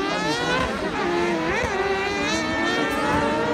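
Racing karts with light chassis and Honda 600 CBR engines at a kart open race, a loud continuous high-revving engine whine with shifting pitch, close and steady throughout.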